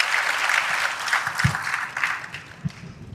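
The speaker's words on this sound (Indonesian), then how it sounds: "Tepuk tangan dulu buat saya yang tadi sudah terlibat memberikan jawaban." A seated audience at a youth discussion forum gives a short burst of clapping. It is moderately loud and stays fairly even before thinning out.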